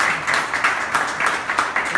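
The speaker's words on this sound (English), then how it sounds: "Let's give one round of applause for our host, Matthew Rey." An audience applauds the host at a live event, a steady patter of many hands clapping, close and even, over about two seconds with no talk.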